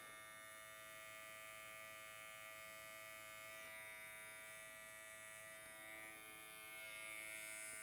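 An electric hair trimmer buzzes steadily during detail work on a haircut fade, a close continuous high whine with slight shifts in pitch as it moves along the hairline.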